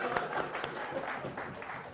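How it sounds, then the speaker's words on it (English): Lecture audience clapping during a course session, a quiet scattered patter of hands with some murmured voices mixed in. "I'm also going to clap."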